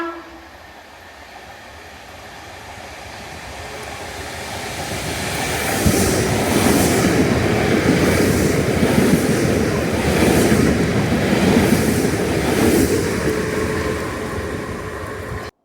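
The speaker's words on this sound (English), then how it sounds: "So that was lovely seeing those Class 507 speeding through Hillside Station" A Class 507 farewell charter train speeds through Hillside Station, its rumble swelling from a distance into a loud, sustained roar that holds as it passes, then eases slightly at the close.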